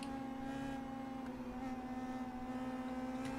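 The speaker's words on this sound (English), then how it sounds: "you can just hear the engine of a car" An Indy Pro 2000 race car engine in the iRacing video game, on the Phillip Island circuit, gives a faint, steady, whining drone with stable tonal harmonics throughout.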